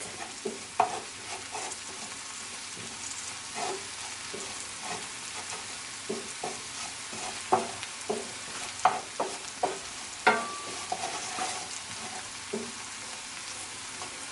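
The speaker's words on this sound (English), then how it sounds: "So we're gonna cook out this flour, that floury flavor, cook it out" Flour cooking in grapeseed oil in a pan for a vegan pot pie roux, a soft steady sizzle broken by repeated scraping stirs of a utensil against the pan, close and moderately loud with no talking.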